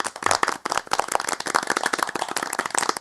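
In a video game, dense, continuous clapping from a crowd, rapid and overlapping, loud and sustained throughout.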